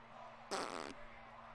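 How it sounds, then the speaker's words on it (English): A single fart sound, about half a second long, rises abruptly and then stops over a low, steady background. "Fart."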